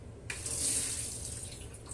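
Soaked cashews are rinsed under a running kitchen tap, a sudden gush of water that starts abruptly and holds as a steady, close splashing stream for a couple of seconds.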